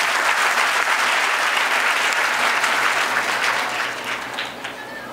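A hall audience at a school award ceremony honouring top HSC students claps loudly in sustained dense applause that tapers off toward the end.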